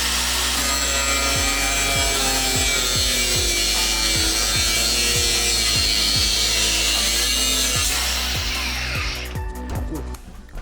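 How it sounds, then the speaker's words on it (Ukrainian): A FlexVolt cordless angle grinder cuts continuously with a grinding disc, a harsh, high whine and a repeating low thump, then winds down near the end. "різав шліфувальним диском і болгарка в захист не йде"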